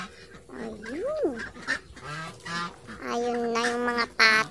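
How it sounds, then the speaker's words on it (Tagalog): A run of loud, close honking calls from Muscovy ducks, nasal and rising and falling in pitch, coming in quick uneven bursts. "Ayun na yung mga pato. Hindi na makapaghintay yung mga pato."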